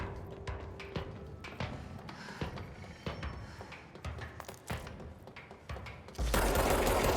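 Gunfire in the video game Control, a run of sharp, irregular shots and rattling bursts, ending in a sudden loud, sustained explosion roar over the final second.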